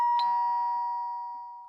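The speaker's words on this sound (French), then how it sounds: "la sonnette retentit" A doorbell gives a single bright chime that rings on and slowly fades, clear and alone in an otherwise quiet scene.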